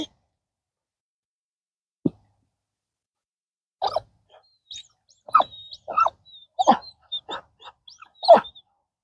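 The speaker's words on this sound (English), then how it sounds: "But if he whines a little bit, I'm just letting him chill." A Labrador retriever whines in a kennel during training, giving a close run of short, high whimpers and yelps with quiet gaps between them.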